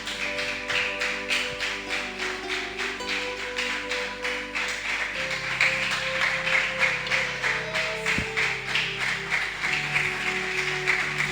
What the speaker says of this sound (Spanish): déle un fuerte aplauso al Señor